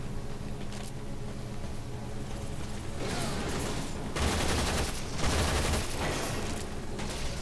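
Shotgun fire in the sci-fi action game Warframe, a dense burst of loud, close blasts crackling over a steady droning background, with the heaviest bangs clustered in the second half.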